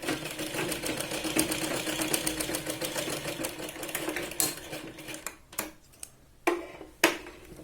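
A sewing machine stitching a Punjabi dress runs in a steady rapid mechanical chatter, then slows to short separate bursts with pauses and clicks near the end.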